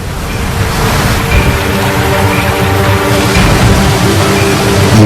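Water swirling down through holes in a lake bottom, draining like a bathtub plug: a steady, loud rushing churn with no break, close and continuous throughout.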